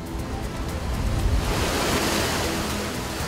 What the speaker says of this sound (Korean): 확실히 밀물 때보단 파도가 크게 부서지는데요.